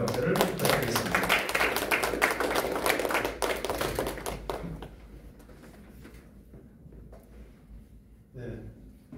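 At a literature seminar, an audience claps for the first speaker, and the burst of applause stays dense for about four seconds before thinning into scattered claps and room quiet.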